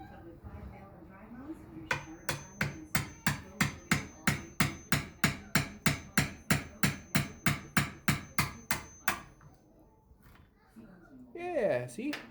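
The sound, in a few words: wood chisel taking small chunks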